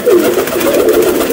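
Pigeons with red throats coo softly in a loft, a steady low murmur of overlapping cooing running throughout, close by and continuous with no talk.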